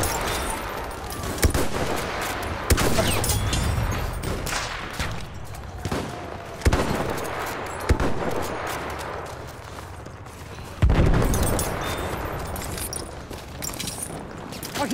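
Gunfire in a first-person shooter game, dense rattling bursts and sustained automatic fire with louder individual shots cracking through, continuous and fairly near, without speech.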